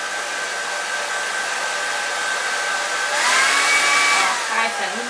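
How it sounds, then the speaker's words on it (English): A hair dryer on a low setting blows steadily over a layer of Halloween wound makeup, a constant close whirring hiss that rises slightly in intensity partway through, with no talking. "you get the trusty hairdryer, and put in a very low setting"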